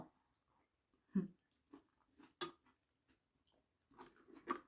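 Soft chewing and crunchy bites of rice with bamboo shoot curry and cockles, a handful of close, quiet mouth sounds spaced out over a near-silent background.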